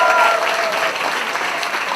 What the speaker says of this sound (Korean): 더 큰 박수 함성 부탁드립니다